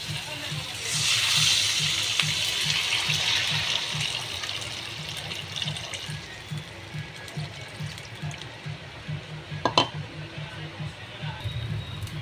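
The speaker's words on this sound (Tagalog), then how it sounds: "So guys, lalagyan natin tubig." Water poured into a cooking pot holding tomatoes and miso for sinigang fish soup, a steady rushing pour that fades after a few seconds, with faint knocks and a brief clink later.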